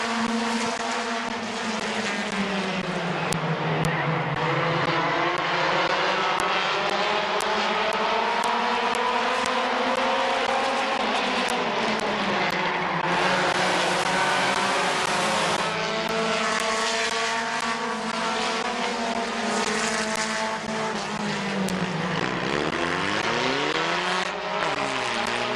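Compact race cars roar around Midvale Speedway in a heat race, their engines droning loud and continuous with rising and falling pitch as the pack passes close.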